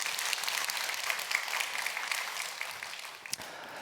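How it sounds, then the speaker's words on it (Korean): A church congregation claps together during an early-morning worship service, a steady dense patter of many hands filling the room, fairly distant and even before tapering off near the end. "세 분을 위해서 여러분 큰 박수 한번 해주시면 좋겠습니다."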